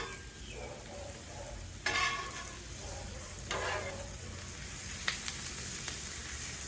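Mushrooms and smashburgers frying on a hot Blackstone griddle give a steady, close sizzle and crackle, with a couple of louder hissing bursts and scraping stirs; nobody talks.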